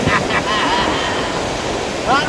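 Strong ocean waves and gusting wind on a resort beach, a loud steady roar of surf with wind buffeting the microphone and faint voices or bird calls briefly audible.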